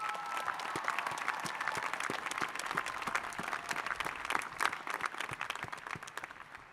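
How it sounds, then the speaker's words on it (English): A graduation audience at a university commencement applauds continuously, with dense, steady clapping from a crowd heard at moderate distance and no talking over it. "let's give our families the round of applause that they deserve."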